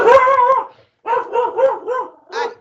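A dog gives a long bark followed by a quick run of four or five shorter, yelping barks and then one more, loud and close, with no speech over it.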